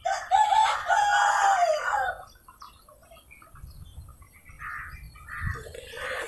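An aged Aseel hen, about ten years old, gives loud close clucking calls at the start, then quieter scattered clucks and soft rustling follow.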